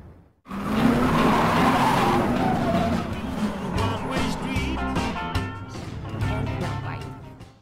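A car accelerates hard with tires squealing and skidding. A loud, sustained engine roar and screeching rubber dominate for several seconds, then ease off toward the end.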